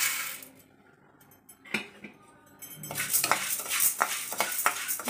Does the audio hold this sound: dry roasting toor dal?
yes